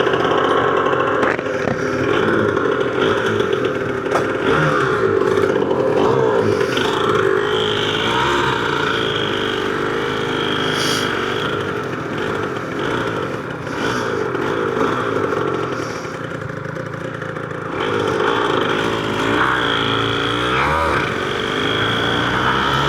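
A Yamaha TZR 250R two-stroke motorcycle rides along the road, its engine buzzing loud and near with shifting revs, a couple of dips and rises, and wind rush throughout.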